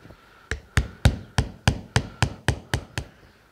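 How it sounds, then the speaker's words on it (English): A hammer strikes a screwdriver wedged into a microwave oven transformer, driving it between the housing and the secondary winding: ten sharp metallic blows in a steady, even rhythm, close and distinct. "hammer down on a sharp angle. I want to drive the screwdriver in between the transformer housing and the"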